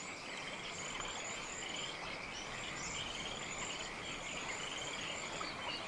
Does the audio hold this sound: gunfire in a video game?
no